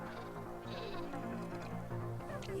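Sheep bleat in the video game Minecraft, a few wavering bleats over a steady game-sound background, close and clear with no talk.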